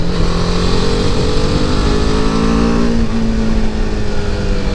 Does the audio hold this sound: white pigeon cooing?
no